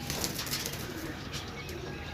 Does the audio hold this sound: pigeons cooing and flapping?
yes